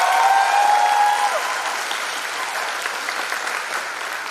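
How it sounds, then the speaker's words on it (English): Crowd applause at a graduation ceremony, a broad, loud wave of clapping from a large audience that starts strong and gradually eases off, with a brief high whistle-like tone near the start. "Give your parents a round of applause right now."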